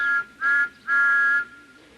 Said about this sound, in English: Peep, peep, peep. Where is the conductor? Whistled Thomas